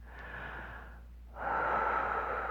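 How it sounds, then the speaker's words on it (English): A slow, airy breath drawn out in a calm relaxation exercise, a softer first breath, a brief pause, then a fuller, louder exhale that trails off, close to the mic. "Let's release, relax, and breathe out"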